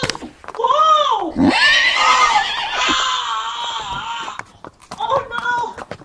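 A horse whinnies loudly and shrilly in a long falling call, then a second shorter neigh follows, close by, with shouting voices around it.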